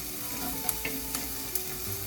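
Garlic frying in a pan for white bean and kale soup gives a soft, steady sizzle with a few light crackles and pops scattered through it. No one speaks.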